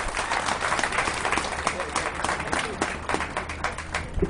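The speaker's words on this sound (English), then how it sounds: "Give him a nice round of applause" Crowd applauding at a Tea Party gathering in Rolla, dense crackling clapping from many hands that keeps a steady level throughout, with a voice speaking over it.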